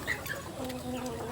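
Backyard chickens and a rooster clucking at afternoon feeding time, soft close clucks and chirps over a quiet outdoor background.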